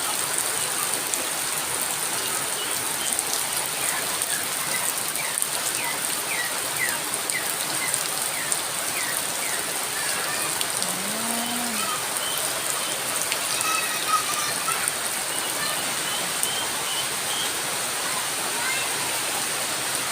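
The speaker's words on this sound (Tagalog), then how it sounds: "umuulan na dito sa amin" Steady, dense rain pours down on bamboo and plants near a pig pen, a constant broadband hiss with scattered faint bird calls in the background.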